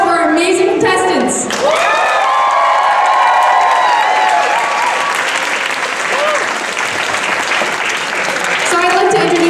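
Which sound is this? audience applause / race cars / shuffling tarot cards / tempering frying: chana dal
audience applause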